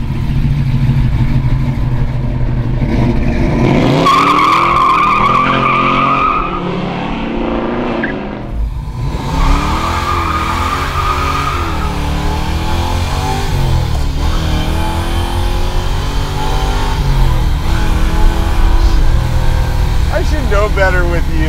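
A rare original 1969 Camaro Z28 RS being driven hard, with a loud, continuous engine roar that rises and falls through gear changes, plus a brief squeal of skidding tires, while people talk over it.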